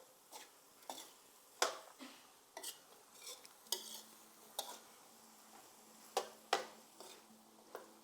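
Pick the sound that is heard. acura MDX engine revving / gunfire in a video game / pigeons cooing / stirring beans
stirring beans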